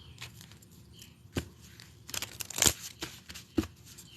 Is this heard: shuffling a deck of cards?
yes